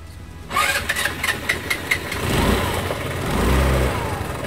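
A motorcycle engine, started by bridging the starter with a screwdriver, cranks with a quick rhythmic chatter, catches, and settles into a loud close idle with a few throttle surges.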